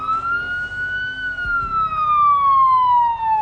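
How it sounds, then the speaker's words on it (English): An ambulance siren in the video game Project Zomboid sounds as one long, loud wail that slowly rises and then glides down, heard clearly and without any talk. "I apologize if anybody dislikes the ambulance siren noise, but we're going to have to deal with it for a bit here."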